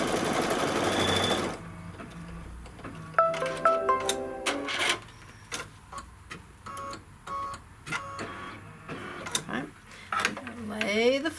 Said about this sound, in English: I'm just going to go ahead and stitch the placement line and the tack down for our flex foam in that same color